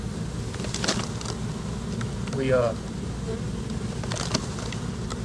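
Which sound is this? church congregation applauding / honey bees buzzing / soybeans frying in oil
honey bees buzzing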